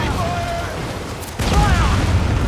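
Ship cannons booming in Assassin's Creed IV: Black Flag, a heavy low blast rumbling in over sustained battle noise, with a second loud burst surging midway beneath shouted voices.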